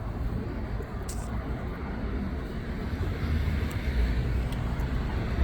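Cars pass on an outdoor road as a steady, broad traffic rumble that swells slightly toward the end, with faint scattered sounds above it and no clear talking.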